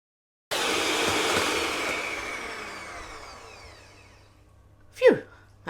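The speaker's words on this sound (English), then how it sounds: "So for this I'm using a hand mixer." An electric hand mixer beats Christmas cake batter in a bowl, a steady loud whirring drone that slowly fades over several seconds, then stops, followed by a couple of brief clunks.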